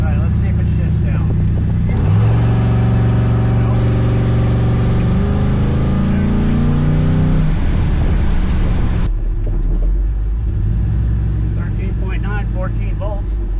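A V8 engine swapped into a Celica with an automatic transaxle revs up, its harmonic tone climbing, then the pitch drops and settles as the transmission shifts, loud and close, ending on a lower steady idle.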